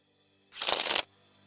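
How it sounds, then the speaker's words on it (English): Mission deck cards shuffled during a tabletop card game, a single brief riffle of about half a second, close and crisp against a quiet room. "Shuffle the mission deck"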